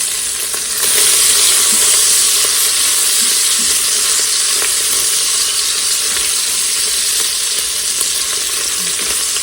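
Pancetta browns in a pressure cooker pot with a loud, steady sizzle and frying hiss, spatter crackles and occasional stirring scrapes running throughout, close and without talk.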